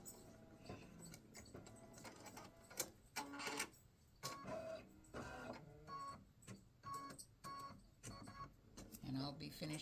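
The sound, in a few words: embroidery machine stitching a design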